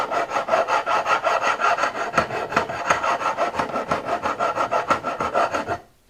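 Frets on a Martin HD-28 acoustic guitar are worked with a file in rapid, rhythmic rasping strokes, close and steady, before stopping abruptly at the end.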